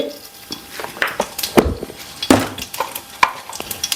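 Mustard seeds tempering in hot oil, heard as scattered sharp pops and crackles with a few light clinks from a pan, close and moderately loud, no talking.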